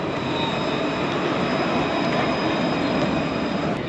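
A tram in southern France rumbles past in a loud, steady roar of wheels on rails, with a faint high wheel squeal running through it and no talking.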